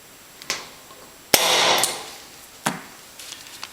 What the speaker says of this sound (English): Center punch.